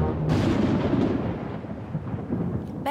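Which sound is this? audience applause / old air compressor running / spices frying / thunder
thunder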